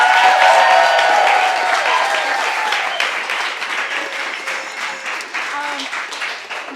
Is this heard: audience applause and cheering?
yes